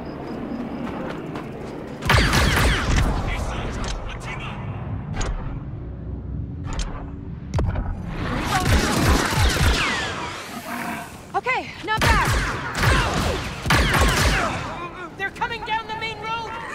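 Blaster gunfire and impacts in the video game Star Wars Outlaws, loud bursts and shots starting around two seconds in and recurring among effects, with character voices talking between the shots.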